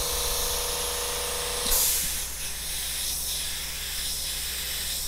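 An airbrush sprays paint onto a graffiti-style T-shirt design, giving a steady close hiss throughout with a brief louder burst near the start, then softer pulses of spray.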